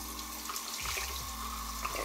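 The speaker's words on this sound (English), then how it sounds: "Just rinse this off." Tap water runs steadily into a bathroom sink as something is rinsed off under it, a continuous close hiss with a few low splashes and gurgles.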